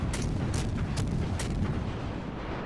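Warship guns fire long-range salvos in World of Warships Legends, several heavy booming shots in quick succession followed by a rumbling tail.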